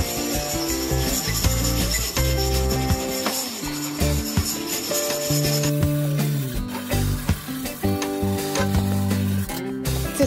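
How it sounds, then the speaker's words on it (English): Hand sanding of a cement wall to remove loose bits during a DIY shower room build, a continuous rough scraping and rubbing, close and loud, with irregular strokes and no talk. "I have to sand it down, get rid of all the loose bits of cement."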